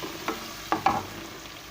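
Chicken frying with ginger, garlic and lightly browned onions in a karahi, a quiet sizzle with a few sharp stirring clicks close by, no voices.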